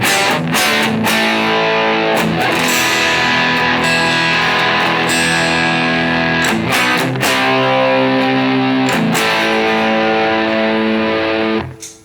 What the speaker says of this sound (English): Now, if I kick in the Distortion Plus,